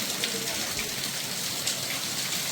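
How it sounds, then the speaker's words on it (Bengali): Heavy rain falls on a flooded street in Vrindavan, a dense continuous hiss of drops pattering on the surface, steady and close with no pauses. "দেখুন কি বৃষ্টি হচ্ছে বৃন্দাবনে, ভয়ানক বৃষ্টি"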